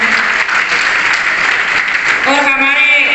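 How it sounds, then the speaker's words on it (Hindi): A crowd claps steadily at a Spine Kabaddi League Season 2 trial event, with dense, continuous applause throughout and a voice starting to speak over it near the end. "भाई के लिए जितना आपके जोश है उतनी जोर से तालियां बजाएं"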